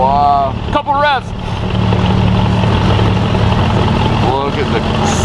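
A powerful car engine idles nearby with a steady low rumble, its pitch swelling briefly in a couple of revs, while people talk over it.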